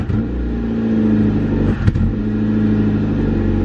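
A Honda Civic (EG) engine revs up steadily, a close, continuous mid-pitched drone with a brief blip partway through, no talking.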